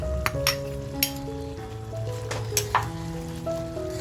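Spiced chicken kadai with onion and capsicum stirred in a pan, a soft sizzle with a few sharp spoon clinks against the metal, under light background music.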